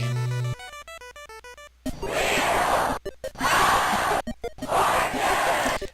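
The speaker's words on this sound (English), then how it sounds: "The yelling of the title screen still the same." On the NES Wheel of Fortune title screen, a short chiptune jingle gives way to loud bursts of digitized crowd yelling and cheering, repeating three times with brief gaps.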